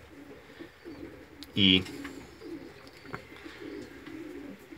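A young autumn-hatched racing pigeon gives one short, loud coo close by, standing out briefly against a quiet loft background with faint murmuring.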